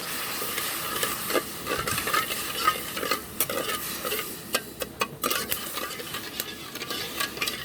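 One cup of sugar and half a cup of water heating in a pan for beetroot barfi, with a spoon stirring and scraping steadily over a soft sizzle, close and continuous, with occasional sharper metal ticks.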